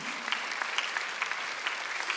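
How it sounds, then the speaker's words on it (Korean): A church congregation claps together during a Korean Sunday worship service, a steady, dense patter of many hands lasting a couple of seconds with no voices on top. "박수 한번 주세요."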